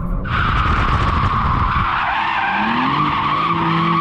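BMW M4 tyres skid and squeal loudly and continuously while drifting, a close, sustained high screech over the engine's rising note.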